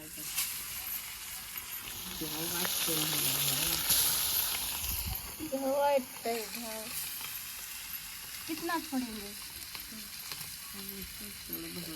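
Fish fries in oil in a pan over a wood-fired clay stove, giving a steady sizzle and crackle with occasional stirring clinks, while people talk over it.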